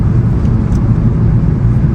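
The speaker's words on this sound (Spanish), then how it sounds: "a ver si sois capaces de apreciar cada vez que cambie de marcha el ronroneo que hace gracias a la downpipe que llevo cambiada" A VW Golf GTI Mk7 Performance with over 300 hp and an aftermarket downpipe purrs with a loud, steady low engine rumble heard from inside the car while driving.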